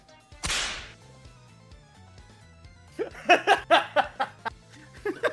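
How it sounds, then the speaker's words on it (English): Airborne whip crack sound effect: one sharp, loud crack with a swishing tail, then background music, followed by a stretch of laughter from several people. "There's just the airborne whip crack sound."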